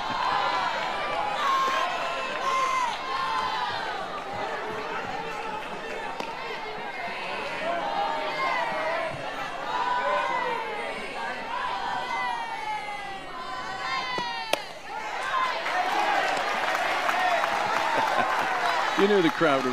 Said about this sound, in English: You knew the crowd would react to that.